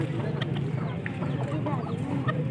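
Hens and roosters clucking at a Sunday bird market in Sialkot, Pakistan, a busy close chorus of short clucks over a constant crowd murmur.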